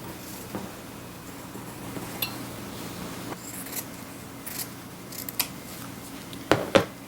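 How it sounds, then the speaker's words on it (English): Scissors snip through fabric while prairie points are cut near a seam, giving light, intermittent close-up clicks and snips that grow sharper toward the end over a low room hum. "Now we'll cut these, making sure that these I do not cut into the seam"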